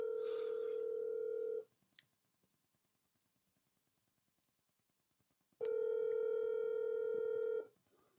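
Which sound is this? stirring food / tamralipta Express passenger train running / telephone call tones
telephone call tones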